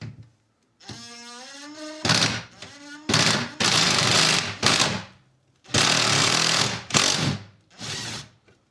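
A handheld power drill works at the window screws of a car door panel in short bursts of whirring, broken by pauses, with a voice heard faintly before the first burst.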